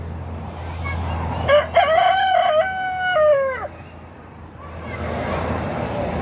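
A rooster on a farm lets out a single full crow, rising and falling over about two seconds, moderately close and standing clearly above a steady low background hum.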